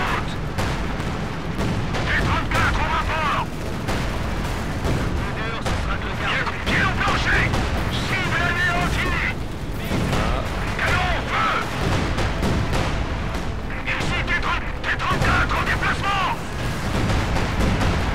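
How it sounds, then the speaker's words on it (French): Continuous bursts of gunfire and heavy artillery booms from the video game Company of Heroes 2 rumble throughout, with a voice talking over the battle noise. "On nous tire dessus."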